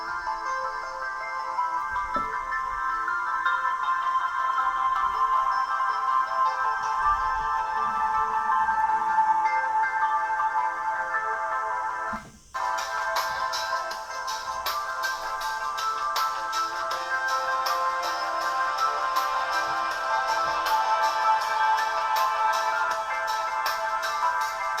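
Chuwi Vi10 Plus tablet speakers at full volume play a steady stream of music close to the mic, with a brief dropout near the middle before continuing at the same loudness.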